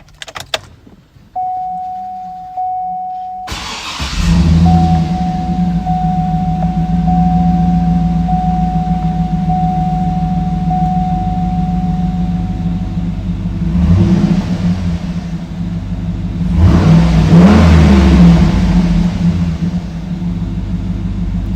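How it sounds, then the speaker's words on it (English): A 2007 Cadillac Escalade ESV V8 engine cranking and starting with a sharp burst, settling into a deep steady idle rumble with a whine, then two swelling revs rising and falling, close and loud. "Does have the V8 rumble."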